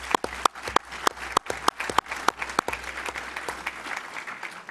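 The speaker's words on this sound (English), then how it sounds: "so please give yourselves a round of applause." Audience applause at an award ceremony for a charity fundraising campaign: sharp, loud claps stand out at first, then settle into a steady wash of clapping that carries through the clip.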